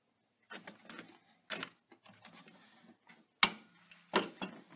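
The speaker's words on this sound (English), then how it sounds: "next we're using an oil filter wrench to remove the oil filter" Oil filter wrench working on a Jeep Wrangler oil filter during an oil change, with scattered metallic clicks, taps and scrapes in short separated bursts.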